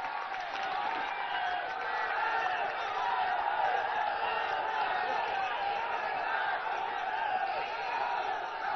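Large outdoor political rally crowd at Fatehpur Sikri applauding for Rahul Gandhi's arrival, a steady dense wash of clapping and crowd noise that holds at an even level throughout.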